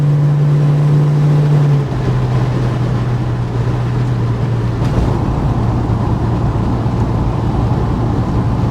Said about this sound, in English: Just leave my foot off the accelerator and the car just coasts all the way down on its own.